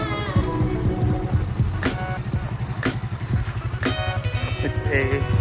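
A small motorcycle of about 7 to 8 horsepower idles in neutral through its little exhaust, a steady low rapid putter running throughout, close and loud, with someone talking over it.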